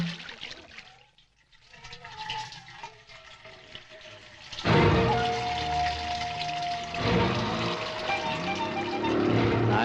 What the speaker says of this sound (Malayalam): വെള്ളം ഒഴിക്കാൻ